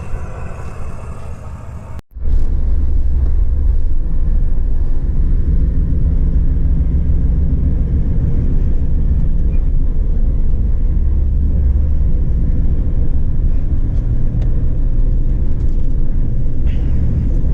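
A car drives steadily in high range, its engine and road rumble loud and constant after a brief cut near the start.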